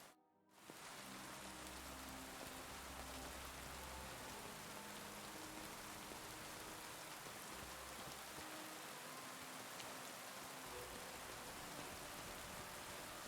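Steady, dense rain pours continuously in the video game Kingdom Come: Deliverance II, a constant hiss of drops on surfaces with a faint low rumble underneath.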